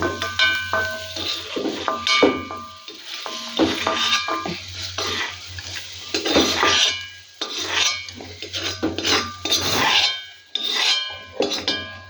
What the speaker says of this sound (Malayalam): അപ്പോൾ അതിനെയും ഞാൻ ഇതിലോട്ട് കോരിയെടുക്കുക